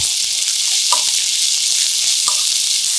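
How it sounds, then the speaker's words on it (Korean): Sliced onion and beech mushrooms sizzle steadily in olive oil in a hot pan over medium-low heat, a loud continuous frying hiss with a couple of faint stirring scrapes and no voices. "중약불에 공중팬 올려 올리브유 2스푼 두르고 달구어지면 양파, 해송이 넣고 달달 볶아서"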